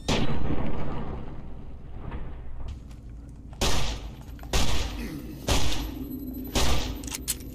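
Gunfire crackles in Fallout New Vegas, several loud, close shots landing in a roughly regular rhythm over a rumbling game background after a louder opening barrage.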